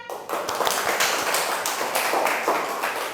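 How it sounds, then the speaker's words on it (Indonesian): A school class of eighth graders claps for a student group after a presentation, a quick burst of scattered hand claps starting abruptly and continuing unevenly at moderate volume. "tepuk tangan"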